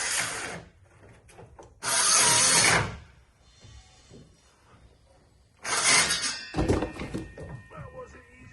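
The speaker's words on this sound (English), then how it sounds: "we're running away briefly because John has got the big grinder out" A big power grinder runs in loud, dense bursts, one about a second long near the start and others at two and six seconds, with quieter clattering and handling sounds between them.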